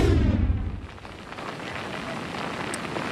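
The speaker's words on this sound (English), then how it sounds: "the rain and wind, as you can see, really just picked up here in Jacksonville Beach" Heavy rain and gusting wind lash Jacksonville Beach during a coastal storm, a dense, steady roar of downpour and wind noise filling the scene without a break, loud and close throughout.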